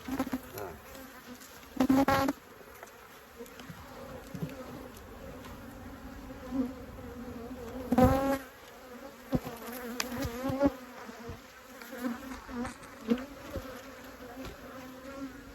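Honey bees buzz around a rescued queen and a handful of workers, a low continuous drone with louder close swells as individual bees pass near, and no talking.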